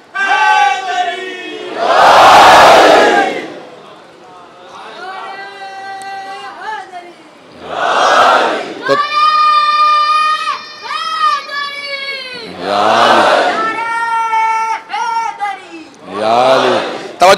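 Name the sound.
crowd chanting slogans, Haidari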